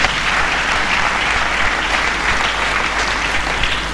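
A church congregation applauds steadily and loudly for several seconds, a dense, continuous wash of clapping with no break.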